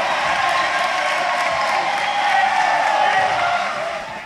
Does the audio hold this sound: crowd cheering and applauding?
yes